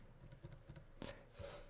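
Keys tapped on a computer keyboard while a page name is typed into a browser address bar: a quiet, irregular run of light clicks, ending in a slightly firmer keystroke.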